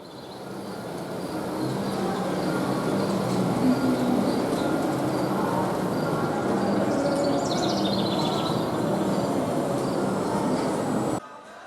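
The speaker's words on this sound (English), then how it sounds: "our trains come and go through a couple of tunnels" Model trains run through a couple of tunnels on a layout, giving a steady, even rumble with a faint higher chirping tone near the end, before it cuts off abruptly.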